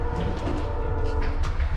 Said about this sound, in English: That's the train.